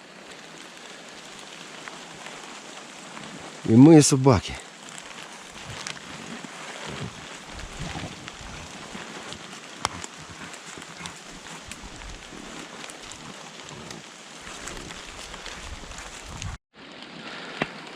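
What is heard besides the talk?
rain falling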